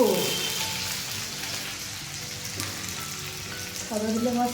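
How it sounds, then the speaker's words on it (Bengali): Sliced onions frying in hot oil for biryani beresta in a home kitchen, a steady soft sizzle and crackle throughout, with brief voice sounds at the start and end. "বিরিয়ানির জন্য বেরেস্তা করতে হবে তো পেঁয়াজগুলো তেলে ফেলার পর যা জোরে লাফিয়ে উঠলো সব"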